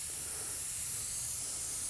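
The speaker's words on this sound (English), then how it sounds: "I wonder why this was spraying so light." A paint spray gun lays down a coat of black cherry candy paint, giving a steady, close, loud airy hiss that runs unbroken for the whole two seconds with no voices.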